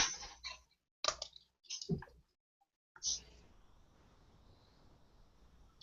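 Fingers type on a computer keyboard in several quick bursts of close, crisp clicking separated by short pauses, followed by a faint, steady hiss.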